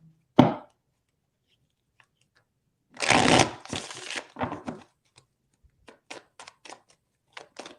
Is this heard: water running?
no